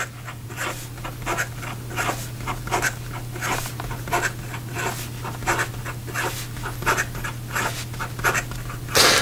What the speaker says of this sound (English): And in regard to some fast writing